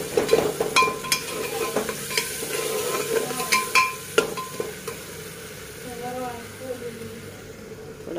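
Spices roasting in a pan, stirred with repeated scraping and clinks over a soft sizzle that fades toward the end, while someone speaks faintly in the background.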